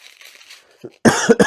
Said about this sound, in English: I'll get the coughing out of the way before I start.